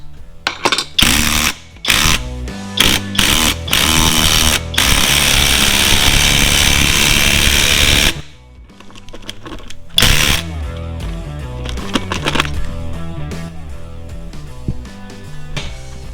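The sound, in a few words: power tool driving in bolt to mount lumber rack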